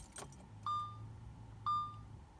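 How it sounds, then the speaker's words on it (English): Holding the key on an Audi 4.2 FSI closes its power windows: a key click, then a low, steady motor hum runs under two short electronic beeps about a second apart. "Just by holding the key now, I'm able to close the windows."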